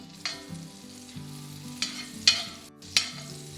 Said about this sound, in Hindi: जैसे ही बटर मेल्ट हो जाए हम ऐड कर देंगे हरी मिर्च एंड लहसुन।